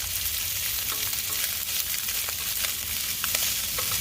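Frozen meatballs cook in a hot pan inside a van, giving a loud, steady sizzle with scattered crackles and pops, heard close up with no talking.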